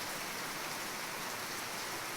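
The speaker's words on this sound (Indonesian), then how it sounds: "hari ini hujan ya" Rain falls steadily on a daytime village setting, a uniform, close, full hiss of countless drops that never lets up across the short stretch, with no talking.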